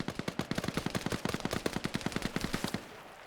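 Rapid automatic gunfire in the STALKER video game, a steady stream of roughly two dozen sharp shots fired in quick succession, loud and close, as exosuits get mag dumped, with no voices over it.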